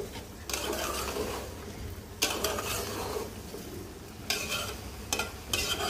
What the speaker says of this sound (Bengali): তো আবারও ঢাকনা উঠিয়ে নেড়ে চেড়ে দিলাম